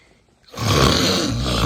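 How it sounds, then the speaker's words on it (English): Loud throaty snoring from a sleeping person, starting abruptly after a near-silent moment and rasping on strongly and close for over a second, with no talking. "Who's snoring like that?"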